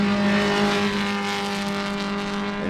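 A pack of race cars in a multi-class SCCA club race at Sebring roars past close by, with layered engine tones held at high revs and then shifting as the cars pull through.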